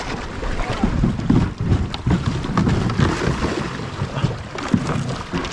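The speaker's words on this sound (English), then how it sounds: "It makes for much more pleasant rapid paddling." An Old Town Sportsman 120 kayak runs through river rapids amid loud, churning water and gusty wind buffeting, with irregular splashes and thumps from the hull and paddle strokes.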